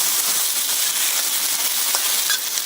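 About six ounces of beef sears in a hot pan, a steady bright sizzle and hiss running throughout, with a couple of faint clinks near the end and no voices.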